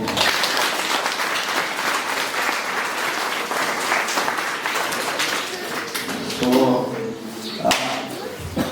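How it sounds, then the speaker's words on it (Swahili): A crowd applauds at a primary school administration block launch and handover ceremony in Kenya, a dense sustained clapping that fills the space, with voices rising toward the end. "Tuwapigie makofi."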